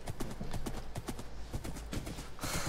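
Hooves of a white horse in the video game Hunt and Run clip-clop in a quick, steady rhythm at close range, a regular trotting beat, ending with a brief burst of noise.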